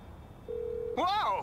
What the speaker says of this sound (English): who changed my ringtone?